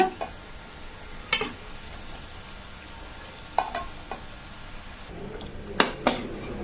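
A spoon stirs cooked rice into masala in a pan for mango coconut rice, giving a few sharp metallic scrapes and clinks spaced out over a faint background hiss.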